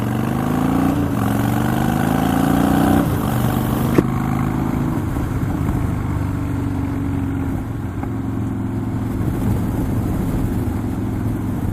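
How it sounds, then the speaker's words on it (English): Harley-Davidson Street Bob motorcycle with Rinehart exhaust accelerating: a loud, steady engine roar with rising revs, a gear change near the start, then a sustained pulsing drone while riding, with no talk. "Still accelerates nicely. I hope you can hear it because it sounds great with the Reinhardts."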